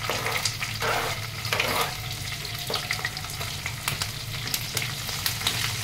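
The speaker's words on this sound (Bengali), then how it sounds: "ক্যাপসিকামগুলো ভাজা, পনিরগুলো ভাজা হয়ে গেছে" Capsicum pieces fry in a pan with whole black peppercorns and fried paneer, giving a loud, continuous sizzle broken by repeated scraping stirs of a spatula.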